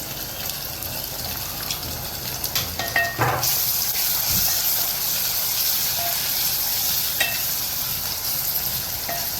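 Onion, tomato and garlic sizzling steadily in a pan for an Agri-style dry kantola vegetable, with a few clattering stirs early on, close and continuous without talk.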